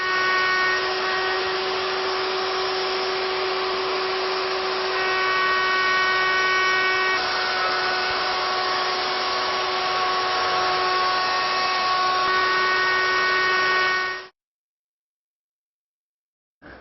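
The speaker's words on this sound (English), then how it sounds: "I'm going to make a series of passes until my router bit is below my part." An electric router fitted with a straight cutter whines loudly and steadily as it pin-routes a wooden pedestal leg in a series of passes, a high sustained motor tone that stops abruptly near the end.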